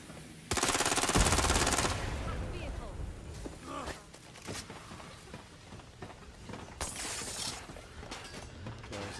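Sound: gunfire in video game Watch Dogs Legion

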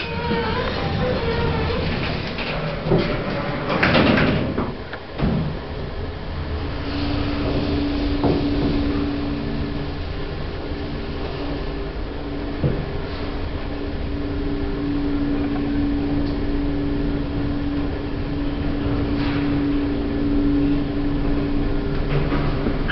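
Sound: generic elevator doors and lift running

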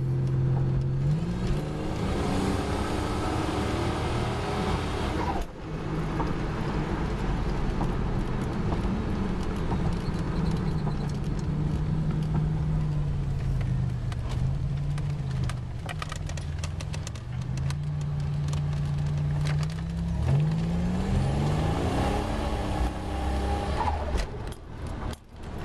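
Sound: 1987 Buick T Type accelerating under boost

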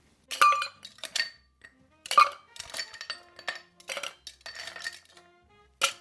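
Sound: ice clinking into a cocktail shaker

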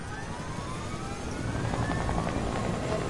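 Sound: helicopter in a video game

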